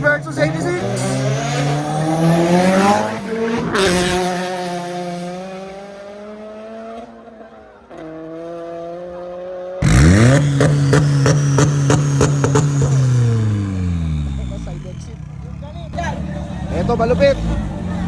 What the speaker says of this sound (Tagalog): EG Hatch Turbo versus Toyota 86 Turbo